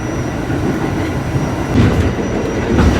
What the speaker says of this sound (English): We are on the train, going on a ferry.